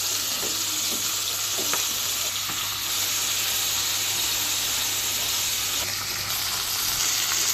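Fish coated in salt and turmeric fries in oil with a steady, close sizzle and scattered light crackles and pops throughout, a low constant hum beneath; nobody speaks.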